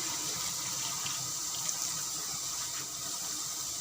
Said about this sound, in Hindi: अब हम इसमें 1/2 कप के करीब पानी डालेंगे